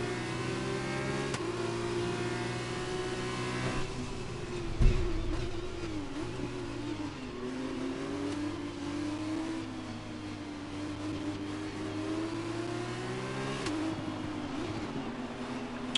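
F2 racing cars in a Mexico round of a racing video game, engines droning together at the end of the formation lap, a sustained layered mid-pitched hum with gentle revving swells and one short thump.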